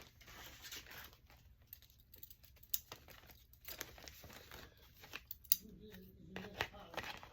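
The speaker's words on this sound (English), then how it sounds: "let's trim off our layering lace that's hanging overboard here" Scissors snip through layering lace and paper on a handmade journal pocket, a series of quick close cuts with faint crinkling in between, heard alone.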